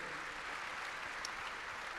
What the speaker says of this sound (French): 30 ans de Médiane, on peut applaudir quand même, pour leur souhaiter un bon anniversaire.